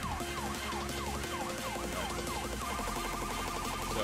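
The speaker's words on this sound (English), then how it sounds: "you leave a siren on for the vehicle" Emergency vehicle siren in the driving game Flashing Lights, a rapid repeating yelp cycling over and over, switching to a faster warble partway through, with engine and road noise underneath.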